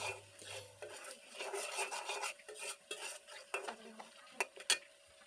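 Chicken curry spices, turmeric and chili powder, being stirred and sautéed with a little water in a pan, a steady scraping and clinking of a spoon against metal with soft sizzling, close and continuous with no talk.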